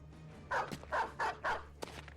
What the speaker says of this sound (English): I'll release a dog and see if we can find where they are.